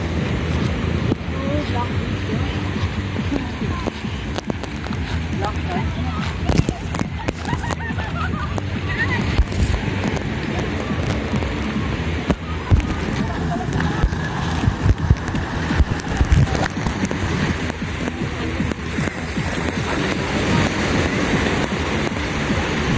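Steady wind rushes over the microphone with the wash of sea surf along a shore, a continuous loud roar, and people talk intermittently underneath.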